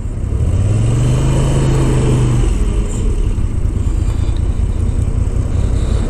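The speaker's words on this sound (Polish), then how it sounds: "W tym momencie, jak ja dodaję gazu" Moto Guzzi V7 850 Special motorcycle (2022) revving as the throttle opens, loud and close with a steady engine roar and rising pitch over heavy wind rush.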